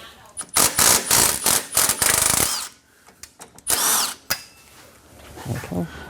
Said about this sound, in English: Now I'm going to take off this 17 on the bottom of this Bilstein strut.